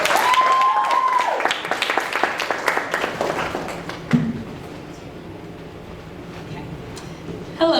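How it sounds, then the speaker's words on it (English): Audience at an evening presentation applauds a presenter, a loud burst of clapping that thins and fades over several seconds into quiet room noise with a few scattered claps. "Please give a round of applause for Deotta Cannon."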